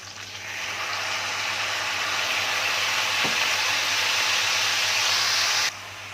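Sausage sizzles loudly in a hot frying pan as two spoonfuls of vinegar are added, a steady bright hiss and crackle that stays constant for several seconds before cutting off abruptly near the end.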